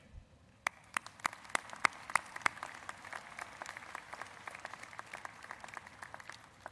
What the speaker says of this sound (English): I want to ask all of you to join me in giving a round of applause to those who surrounded you with support to get you to this day